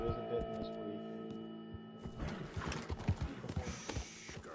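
Horse hooves clip-clop in Red Dead Redemption 2, a run of irregular thuds over a steady game-music drone and ambient hum in the second half, with a faint earlier whinny.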